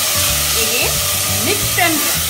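Chopped tomatoes sautéing in a pan for an aloo capsicum dish, a steady hiss and sizzle heard close up under a voice speaking over it.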